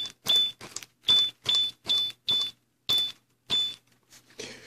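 A prototype Traxxas Summit FPV base station powers off with a sequence of short electronic beeps and tones, seven clipped pulses in a rhythmic pattern followed by a softer trailing blip.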